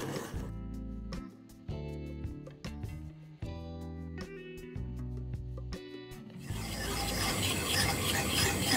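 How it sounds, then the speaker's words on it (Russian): Custard cream being stirred in a pot as it cooks, with rhythmic scraping and rubbing strokes that repeat at an even pace, close and fairly quiet, shifting to a broader, denser scraping texture in the final seconds. "помешивая постоянно, варим до загустения"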